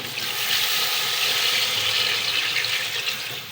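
About 1.5 kg of water pours steadily into a cooking pot of haleem, a continuous close splashing, gushing stream lasting the whole stretch with no talk.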